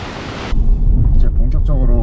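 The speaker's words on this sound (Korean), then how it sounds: "저기 저렇게 보시면 굉장히 웅장한 폭포가 하나 있습니다." The Oshinkoshin waterfall in Hokkaido roars as a loud, continuous broadband rush that drops in level partway through, with a person speaking over the steady water noise.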